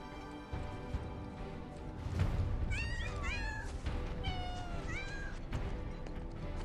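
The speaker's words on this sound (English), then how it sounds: "Oh, kitten." A kitten in Final Fantasy VII Rebirth gives two short rising-and-falling meows a couple of seconds apart, close and clear over a soft game ambience of background music.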